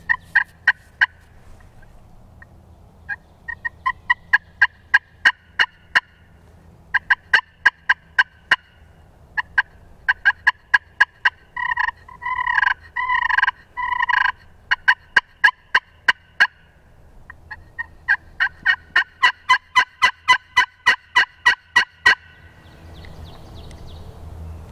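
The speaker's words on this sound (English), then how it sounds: "a bird just gobbled on his own" Repeated bursts of wild turkey gobbling, rapid rattling calls in clusters, fairly close and loud against a quiet outdoor background.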